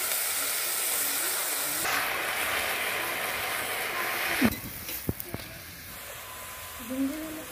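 Mustard greens tossed into hot oil with browned chopped garlic give a steady, loud frying hiss that shifts as they hit the pan, followed by a few clanks of utensils, with a voice talking at times.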